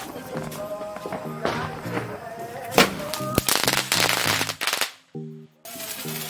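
Diwali firecrackers go off in rapid, loud crackling bursts and sharp bangs, with overlapping tonal sounds between volleys and a brief near-silent lull near the end.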